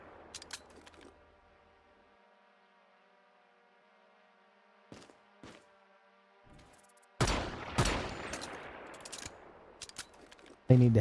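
A turret in the survival shooter Once Human fires several scattered single shots, then breaks into a dense, loud burst of rapid gunfire toward the end.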